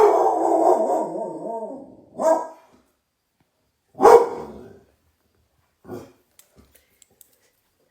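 A dog barks and howls in a long drawn-out outburst, then gives two or three sharper single barks spaced a couple of seconds apart, close and loud, followed by faint clicks and quiet.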